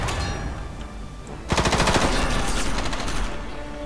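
A mech shooter, Front Mission: Evolved, erupts into machine-gun fire: after a noisy lull, a rapid, loud burst of evenly spaced shots starts abruptly and keeps rattling close by for over two seconds.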